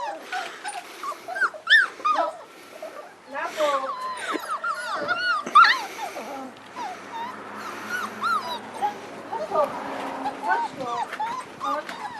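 Hungry puppies whimpering, yipping and squealing in a busy high-pitched chorus, close and continuous, with people talking over them.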